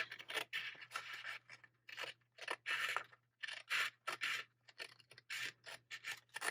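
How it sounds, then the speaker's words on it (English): Small scissors snip through paper in a steady series of short, close, crisp cuts, each burst separated by brief pauses, with no talking. "Little scissors."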